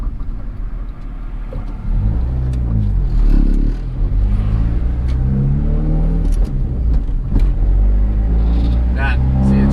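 Turbocharged Honda Accord with a manual gearbox jerking into gear on the street, a loud engine drone and rumble with a lurch, while people talk inside the car.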